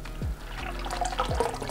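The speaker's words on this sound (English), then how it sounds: "I'm just gonna top it up with some water to our fill line." Water poured into a mead fermenter holding sweet cherries, topping it up to the fill line; a steady splashing, gurgling flow close by, with a couple of low thuds as the vessel shifts.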